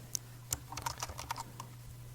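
Typing on a computer keyboard entering iptables commands: a quick, uneven run of soft close key clicks over a low steady hum, with no talking.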